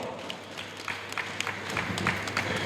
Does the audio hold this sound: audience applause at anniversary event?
yes